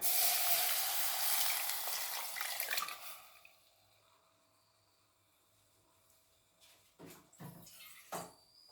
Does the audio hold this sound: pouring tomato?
yes